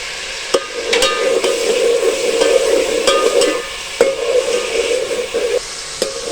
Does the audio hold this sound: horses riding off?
no